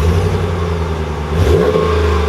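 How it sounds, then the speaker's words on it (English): The engine of a 2020 Ram 1500 Laramie pickup truck fires up from a push-button start, a steady low engine rumble swelling briefly into a rev, loud and close with no talking. "push the push start, and then the truck will start right up"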